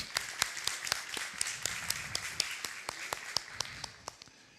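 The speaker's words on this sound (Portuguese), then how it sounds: "Aplauda o Senhor." A church congregation at a worship service claps, a loose burst of sharp individual claps that thins and fades out toward the end, heard somewhat distant in the room.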